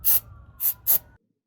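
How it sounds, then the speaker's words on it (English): Three short bursts of starting fluid sprayed from an aerosol can to clean a NOx sensor thread on a Freightliner Cascadia truck, each sharp hiss lasting a fraction of a second, close and fairly loud, with a faint steady tone between them. "I'm going to be using starting fluid to clean it out."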